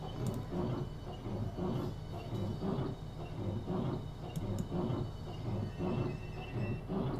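A train runs in the Train Simulator 2014 video game, a steady low rolling rumble with faint rhythmic clatter that continues evenly throughout, with no voices.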